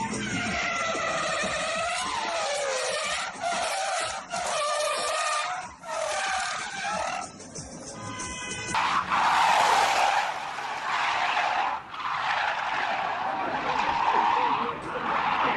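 Cars skidding on Middle Eastern roads, with repeated loud, sustained tire squeals rising and falling, then engine roar and more screeching under crowd noise.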